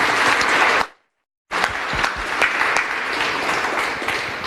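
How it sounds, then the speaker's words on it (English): Loud, dense applause from a conference audience for two speakers, briefly cut to silence and then continuing as a steady wash of many clapping hands, close and without talk. "I would like us to give a big round of applause for our two speakers"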